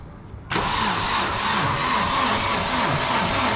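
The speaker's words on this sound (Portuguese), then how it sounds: "Vira o arranque aí, vamos ver o que vai dar." A Chevrolet Vectra left parked for ten years cranks after a short quiet pause, then abruptly catches and settles into a loud, steady, rough idle with a pulsing rhythm, close to the listener.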